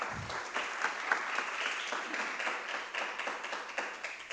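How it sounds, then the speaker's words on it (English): Audience applauding presenters at an academic conference session, a faint, fairly thin round of clapping with individual claps audible throughout, heard from a distance after a brief low sound at the start. "give applause to our presenters"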